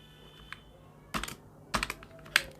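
Typing Python code on a computer keyboard, a faint tap followed by three quick bursts of clattering keystrokes, close and distinct against a quiet background.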